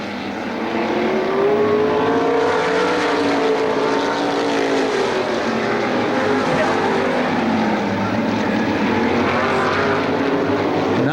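Race cars roaring down the back straightaway at Lorain County Speedway during a 2002 race, engines loud and sustained with rising and falling pitch as cars pass, under continuous race announcer commentary.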